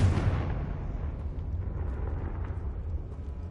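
The Confringo spell in Hogwarts Legacy sets off a deep, booming blast at the start, then rumbling debris fades slowly over a few seconds.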